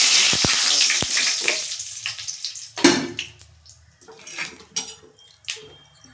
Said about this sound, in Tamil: கடுகு போட்டுக்கலாம் கடுகு நல்லா பொரிஞ்சு